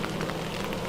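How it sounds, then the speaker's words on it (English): Steady, dense patter of rain drumming on a tent nearby, a continuous hiss with no voices. "That's the rain, mate."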